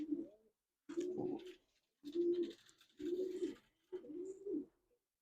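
Young racing pigeons cooing in a loft, five soft low coos spaced about a second apart, close and clear with quiet pauses between them.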